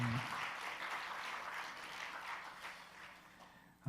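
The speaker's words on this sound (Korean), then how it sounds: "우리 찬양단과 찬양대에게 우리 감사하다고 수고하신다고 우리 박수로 격려하도록" A church congregation at a Wednesday worship service applauds the praise team and choir. The clapping is even and sustained, heard from within the room, and fades near the end before a voice cuts in.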